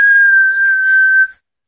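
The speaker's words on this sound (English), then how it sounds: "Hey, can you whistle?" A child whistles one steady, clear, high note, held for just over a second and then cut off, close by with no talking over it.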